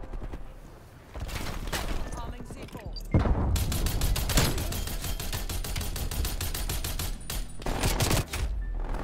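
Rapid semi-automatic fire from a DMR 14 rifle in the shooter game Call of Duty: Cold War, a dense run of loud, sharp shots that quickens after about three seconds, with brief pauses, under faint game ambience.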